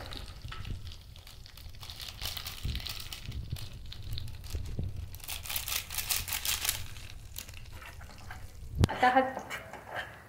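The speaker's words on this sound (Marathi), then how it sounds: "आता हे मसाले चांगले परतून घेऊया तेलात" Spice paste with Everest mutton masala sautés in hot oil for sukka mutton, giving bursts of sizzling and stirring scrapes that swell and fade, with a sharp clatter near the end.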